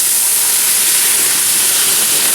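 Milk poured into hot caramelized sugar in a village kitchen, a loud steady hissing sizzle throughout with no voices.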